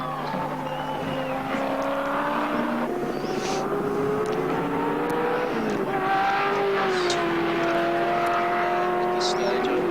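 Race car engines at the 1980 Hardie-Ferodo 1000 at Mount Panorama, Bathurst, a steady droning roar with shifting pitch as cars run through the circuit, heard under a commentator's talk throughout.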